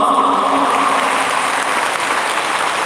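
An audience claps steadily to welcome a guest at the Guruvandanam 2022 award function, a dense, even wash of many hands lasting the whole stretch without speech.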